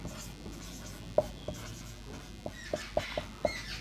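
A word is written by hand, with short scratchy pen strokes and light taps coming in an irregular sequence, close and fairly clear, with no speech over them.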